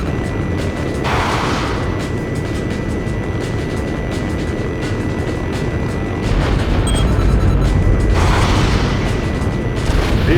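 Weapons from an F/A-18E Super Hornet pound vehicles dumped on a road in a flight combat game, a sustained, loud roar of jet noise and explosions with heavy bursts swelling and fading.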